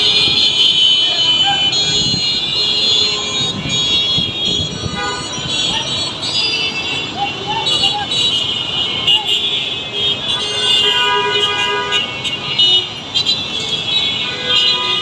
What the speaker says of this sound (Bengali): রাস্তায় প্রচুর জ্যাম